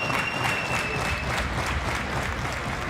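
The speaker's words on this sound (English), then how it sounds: "The audience getting ready, cheering for the Swedes." An audience at a padel match in Gothenburg applauds the Swedish players, a steady wash of clapping from a crowd, moderately distant and continuous throughout.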